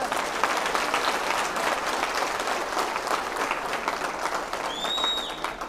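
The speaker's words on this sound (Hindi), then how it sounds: "अपने लिए जोरदार तालियां बजा लीजिए।" A large seminar audience at a motivational talk bursts into loud, continuous applause that holds steady for nearly six seconds, with a couple of brief whistles rising near the end.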